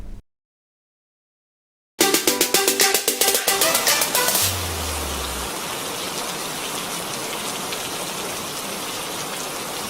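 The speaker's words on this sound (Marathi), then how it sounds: "कोकणात पावसानं जसं जोर धरलो" Steady monsoon rain in Konkan falling and pattering on surfaces, a dense continuous hiss after a brief silence and a burst of rhythmic tapping at the start.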